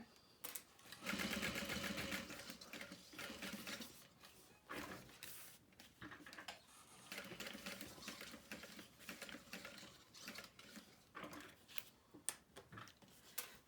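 A sewing machine stitches fabric for a bag in rapid mechanical bursts, running in several close, loud runs separated by short pauses.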